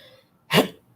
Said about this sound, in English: This choking though. This coughing.